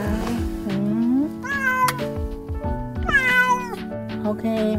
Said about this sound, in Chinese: Qda 不停咁樣咧， 喵喵喵喵